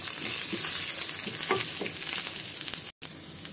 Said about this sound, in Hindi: करी पत्ता मैंने पहले नहीं डाला हुआ था, बहुत ज़्यादा वो तड़कने लगता है, तेल के छींटे लगते हैं पड़ने, तो मैं अब डाल रही हूँ।